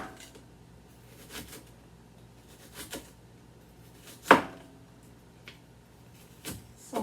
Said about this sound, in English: So my onion, I'm just going to slice like that.